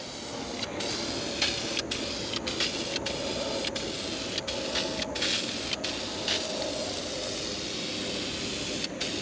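Spray gun hissing as a car part is coated black, steady close airy spray broken by repeated short pauses between passes, with a faint mechanical drone underneath.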